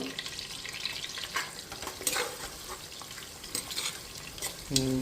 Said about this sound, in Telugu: దీంట్లో అల్లం వెల్లుల్లి పేస్ట్ కూడా 1 స్పూన్ యాడ్ చేద్దాం.